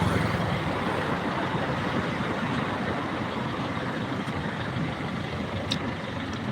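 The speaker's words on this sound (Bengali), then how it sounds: "এই যে এখন দেখতে পাচ্ছেন কত জ্যাম" Congested road traffic with trucks and buses stuck in a jam, a steady dense roar of engines and rolling vehicles throughout, with no clear horn or voice standing out.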